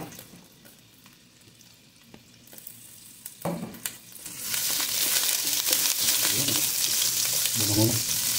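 Ginger dropped into hot oil in a pan for a bluefin tuna coconut-milk stew, with quiet clatter first and then a loud, steady sizzle and stirring scrapes.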